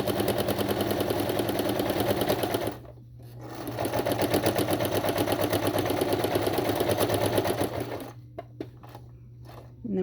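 A sewing machine stitches fabric in a steady rapid whir, running loud and close, pausing briefly near the three-second mark and stopping again toward the end.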